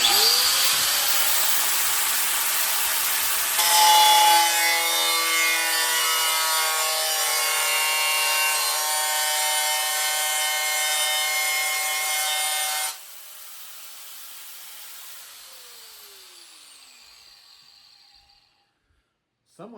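A saw cuts diamond shapes into the metal of an ammo can, producing a harsh, steady grinding rasp that stops abruptly partway, leaving a fading whine.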